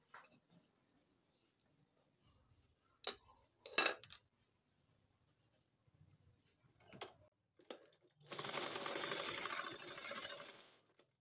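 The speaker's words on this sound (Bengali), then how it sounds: "মুহুরি থেকে আমি কোমর পর্যন্ত সেলাই করে নিব।" Sewing machine running a blouse side seam, starting after a few scattered clicks and knocks with one steady burst of rapid stitching about three seconds long near the end. The sound is close but fairly quiet.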